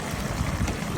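Water coming to a boil in a pot, a dense, close bubbling and gurgling hiss that stays steady through a single second.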